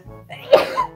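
A single sharp sneeze bursts out mid-clip in a game to see who sneezes first, loud and close, preceded by a brief breathy intake and trailing off quickly.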